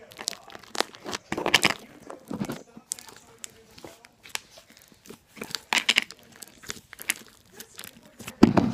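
Crunchy beaded slime squished by hand, giving irregular bursts of crackling, crinkly crunches separated by short quiet gaps, close and loud with a few louder squeezes near the end.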